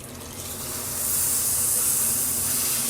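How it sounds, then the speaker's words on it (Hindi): Sugar syrup poured into a hot pan of sweet dish mixture, a steady sizzling hiss that swells after a second and holds loud, with no talk. "अभी मैं डालने लगी हूँ इसमें ये शीरा जो कि मैंने रखा हुआ था"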